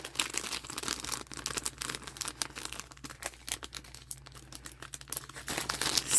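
A crinkly resealable plastic bag from a budget online order, holding small acrylic-style watercolor palette earrings, is pulled open and handled, giving a close, continuous run of rustling and crackling plastic with no talking.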